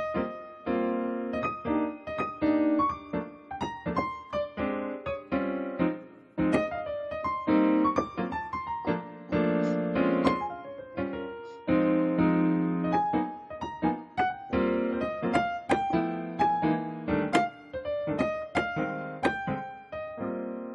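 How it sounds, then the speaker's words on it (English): Solo piano comping, a right-hand melody over short left-hand chord clusters struck in a loose swing rhythm, close and clear with no voices. "So here's the sound of comping."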